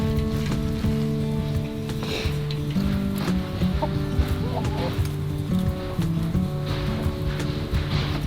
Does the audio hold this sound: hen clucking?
yes